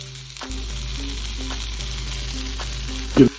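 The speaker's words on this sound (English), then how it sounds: "Onto your hot waffle maker with some partially thawed French fries." Partially thawed French fries topped with cheddar cheese sizzle steadily on a hot waffle maker, a continuous close frying hiss with a brief clatter near the end.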